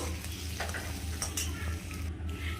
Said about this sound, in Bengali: চিংড়ি মাছটা এবার ভালো করে ভাজবো